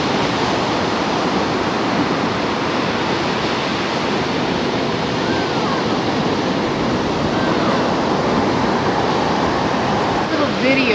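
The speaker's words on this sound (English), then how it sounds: "See the waves?" Ocean surf washing onto a beach near Corolla on the Outer Banks, a steady broad roaring wash that runs the whole time, close and fairly loud, with faint voices in the background.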